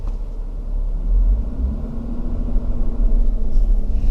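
A manual car moves off as the clutch reaches its catch point, a steady low engine rumble building gently from inside the cabin with no voices.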